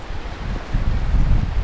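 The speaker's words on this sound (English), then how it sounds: "It's very windy today." Strong wind buffets the microphone beside Two Medicine Lake in Glacier National Park, a loud, continuous low rumble with rustling gusts that swell toward the end.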